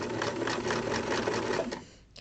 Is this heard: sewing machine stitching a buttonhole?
yes